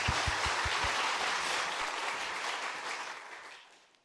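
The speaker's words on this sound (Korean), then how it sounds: "박수로." Audience applause at a church retirement and inauguration ceremony, dense steady clapping that slowly fades out over a few seconds.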